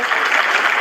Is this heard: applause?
yes